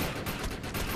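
Gunfire in the PC shooter Defiance, a rapid burst of repeated shots in a dense, loud volley lasting about a second.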